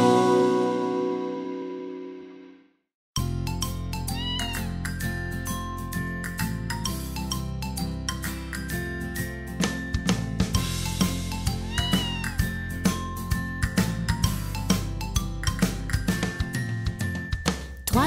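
Kittens meow repeatedly in high, rising cries over a bright, tinkling children's song backing, the meows recurring throughout after a brief fade at the start.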